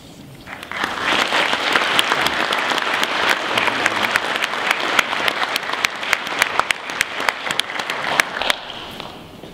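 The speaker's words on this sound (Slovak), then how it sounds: "váš potlesk patril Valérii" An audience at a school anniversary celebration breaks into sustained applause after a poem recitation, a dense wash of many hands clapping loudly for several seconds before tapering off at the end.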